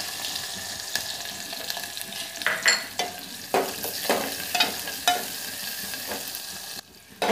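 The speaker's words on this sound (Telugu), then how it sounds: "ఆయిల్ వేడయ్యాక ఆవాలు, జీలకర్ర, ఆ తర్వాత వెల్లుల్లి," Onion pieces frying in hot oil with mustard seeds, cumin and garlic, giving a steady close sizzle broken by stirring scrapes and clatters against the pan.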